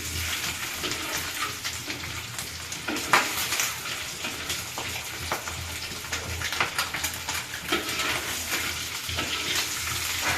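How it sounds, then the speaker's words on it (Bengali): An egg frying in oil in a pan crackles and sizzles steadily up close, punctuated by clinks and scrapes of a utensil against the pan, with no one speaking. "ডিমটা প্রায় ভাজা হয়ে গেছে।"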